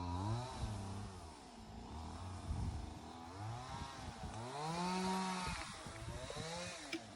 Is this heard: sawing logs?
yes